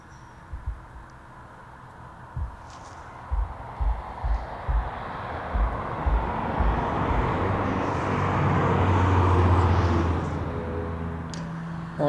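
Airplane taxiing at East Midlands Airport, a broad, distant engine rumble that slowly swells and fades over several seconds, with scattered nearby knocks and no talk.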